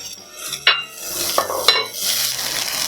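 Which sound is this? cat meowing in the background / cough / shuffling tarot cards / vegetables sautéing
vegetables sautéing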